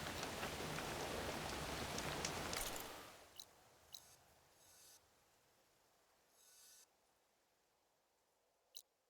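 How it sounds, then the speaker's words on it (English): Rain in the video game Horizon Forbidden West, a dense patter that fades out after a few seconds into near silence broken by a few faint clicks and one sharp tick. "Rain's finally stopping."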